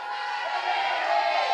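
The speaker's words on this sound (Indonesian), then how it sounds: "Kita berikan tepuk tangan sekali lagi" Audience applause in a hall during a debate between city mayor and deputy mayor candidates, a dense, steady wash of clapping that holds at an even level for the whole stretch with no voices.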